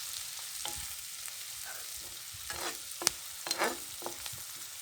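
Meat masala frying in a pan as turmeric powder is stirred in, a steady close sizzle broken by scattered scraping strokes of the spoon, with a few louder clatters near the end.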